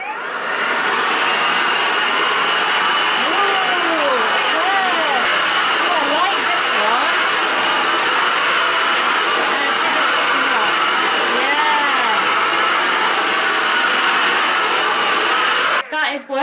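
A Miele vacuum cleaner runs steadily at close range, a loud continuous whine and roar with slight shifts in pitch, cutting off abruptly at the end.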